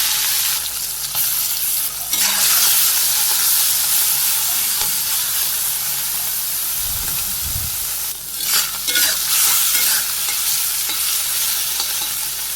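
Small marinated fish frying in hot oil in a home kitchen, a loud continuous sizzle and hiss with a brief low thump partway through and bursts of crackling spatter.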